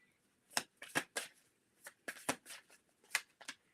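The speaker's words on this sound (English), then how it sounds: "Let me pull out a couple more cards for you." Tarot cards are shuffled and drawn in a handful of crisp, separate riffling bursts and slaps, close up and quiet, with short pauses between them.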